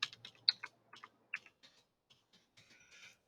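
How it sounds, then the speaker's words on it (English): Typing a row of numbers on a computer keyboard for a spreadsheet, with a quick run of close, crisp key clicks in irregular bursts, thinning out toward the end. "I'm going to type another row of numbers"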